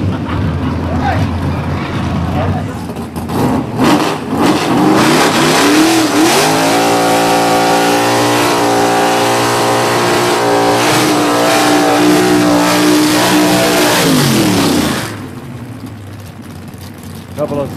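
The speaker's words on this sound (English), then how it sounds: "Couple of smoky burnouts right here. Putting a whiteout on the starting line." Gasser drag race cars do smoky burnouts on the starting line at a London, Kentucky event, engines roaring and revving loud and close for long stretches, then dropping off while an announcer talks.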